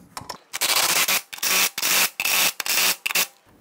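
Lug nuts are snugged down onto the wheel hub of a 1999-2004 Jeep Grand Cherokee, heard as close, loud bursts of ratcheting rattle separated by short gaps.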